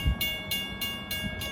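Long Island Rail Road train 2710 nears the Brentwood Road grade crossing on a cold, snowy day, its horn holding a steady tone over a rhythmic, pulsing rumble of the passing train.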